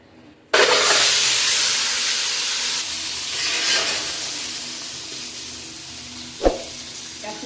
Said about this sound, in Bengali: ডিমের মধ্যে লবণ হলুদ মাখিয়ে নিয়ে ডিমটা ভাজলে ডিমটা সুন্দর কালার